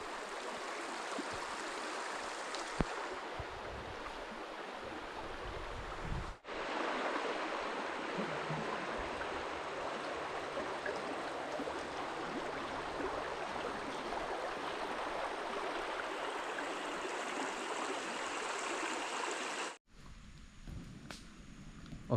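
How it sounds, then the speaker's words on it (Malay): A jungle river stream flows through rainforest, a steady rushing babble of water close by that continues throughout, briefly cut by two short breaks in the recording. "Nampak sungai dia"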